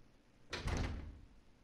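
A door opens in the survival horror game Resident Evil 0, a single broad whoosh of creaking and rumbling that swells suddenly, holds for about half a second, then fades under a low background hum.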